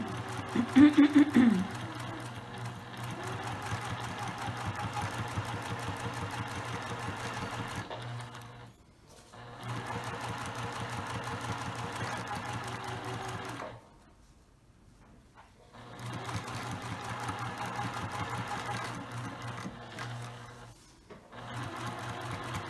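A sewing machine back stitches a lined tote bag, running in steady whirring bursts of several seconds with short pauses between, close and fairly loud with no talk.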